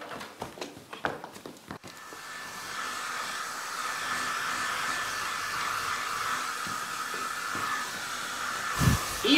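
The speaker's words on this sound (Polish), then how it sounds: "Mam suszarkę, zaraz na pewno ją odmrozimy." A hair dryer starts after a few clattering knocks and runs as a steady loud whirring hiss, used to thaw something frozen at a children's day show.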